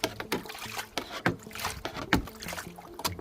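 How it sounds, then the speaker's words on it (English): Water poured into a metal gold pan for prospecting, sloshing and splashing in uneven bursts at close range with no talk. "So all you gotta do is put water in this guy."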